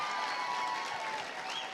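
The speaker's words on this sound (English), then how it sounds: "Big round of applause for Dr. Tara and Brandon" Applause from the audience at a charity dance competition, a brief dense wash of clapping at moderate distance, steady throughout, with a faint whistle-like tone rising near the end.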